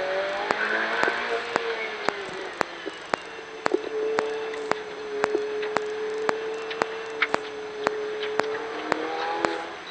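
A Ferrari 488 Challenge race car accelerates on the Varano circuit, heard onboard as a steady, rising engine drone with regular sharp clicks and a voice speaking in the background.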